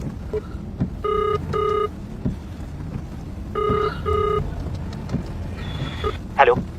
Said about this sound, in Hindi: मैं अभी राहुल को फोन करती हूँ।